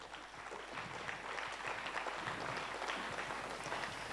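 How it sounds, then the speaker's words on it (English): A crowd gives panelists a round of applause at a South African commemoration of the International Day for Disaster Reduction, with sustained, even clapping that sounds faint and distant and holds steady throughout. "We can give them a round of applause."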